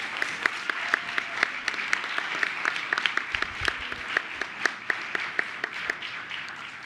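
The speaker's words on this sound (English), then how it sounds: "Can we get one more round of applause for that incredibly talented student?" A school board meeting audience applauds a student performer, a dense run of many hands clapping at moderate distance, steady for several seconds before tapering slightly, with no talk over it.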